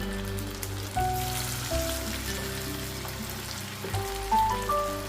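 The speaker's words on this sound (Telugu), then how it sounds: "చక్కగా స్లోలోనే చక్కగా వేగాలి. నేను సిమ్లో పెట్టే వేపుతున్నానండి." Chicken 65 pieces frying slowly in oil in a pan on a low flame, a steady soft sizzle and crackle that runs continuously at an even level with a few brighter pops, no voices.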